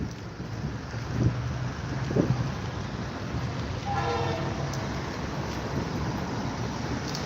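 A Metro-North train rumbles at Botanical Garden station in the Bronx, a steady low roar of rolling cars with a brief horn-like tonal blast in the middle, heard from a moderate distance.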